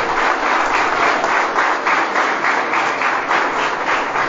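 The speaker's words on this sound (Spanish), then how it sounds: "quien pedimos un fuerte aplauso" A crowd applauds loudly and steadily, many hands clapping together in a dense, continuous wash of sound.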